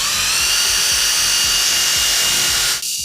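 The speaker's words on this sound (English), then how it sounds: "We're going to pre-drill with half the diameter of the screw" A power drill pre-drills screw holes in clamped beams during a bathroom renovation, a loud steady whine running continuously for almost three seconds before cutting off abruptly near the end.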